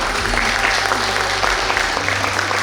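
A packed hall claps loudly and without pause at an award ceremony for an ensemble, the sustained applause running unbroken from start to end.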